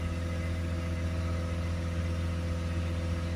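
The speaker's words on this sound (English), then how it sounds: "So we'll hold these revs for a few minutes and we should see that pressure come down." Peugeot Boxer 2.0 diesel engine held steady at about 2,500 RPM during a particulate filter cleaning, a constant close drone with strong low harmonics and no change in pitch.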